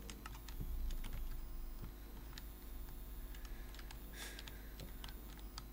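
Someone types a name letter by letter on a computer keyboard while testing a home-built cipher machine. The key presses come as sparse, irregular clicks at close range, with no talk and a steady low hum underneath.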